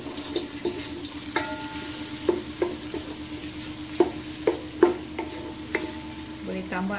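Cardamom pods, bay leaves, cloves and ground cumin sauté in oil in a pan for nasi minyak ghee rice. A low sizzle sits under repeated clinks and scrapes of the stirring spatula, with no talk.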